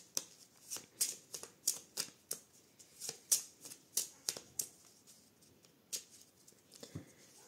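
Oracle cards are shuffled for a tarot-style reading: soft, close riffling swishes and papery slaps arrive in quick irregular bursts, quiet and unaccompanied by speech.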